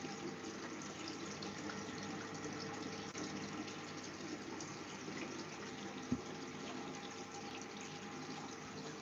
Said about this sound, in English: I'm filling that tank up